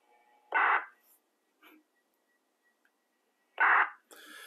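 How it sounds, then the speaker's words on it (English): A TID Radio TD-H3 handheld transceiver sends its roger beep, a short burst of static closing a transmission. Two loud, brief bursts about three seconds apart are separated by near silence, with fainter crackles in between and after. "So it gives that little burst of static at the end of your transmission"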